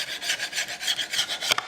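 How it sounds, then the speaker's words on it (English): A scraper grinding an old seal off the back side of a truck part on a Squarebody 4x4 shortbed, a quick series of short, harsh, rasping strokes up close, with no talking. "hit her with our super scraper"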